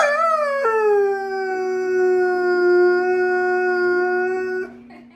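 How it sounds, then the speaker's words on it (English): A pet dog gives one long, loud, sustained howl close to the microphone, falling slightly in pitch and then trailing off, with no talking over it. "And that's Mr. Manny, my dog."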